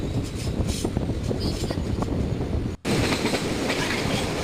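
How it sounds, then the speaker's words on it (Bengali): A train rumbles steadily along the rails near Farakka with a rhythmic clatter of wheels, loud and continuous, briefly cutting out near the end. "আমরা ট্রেনে উঠে পড়েছি, আমরা মাঝ রাস্তাতে আছি, ট্রেন ছেড়ে দিয়েছে।"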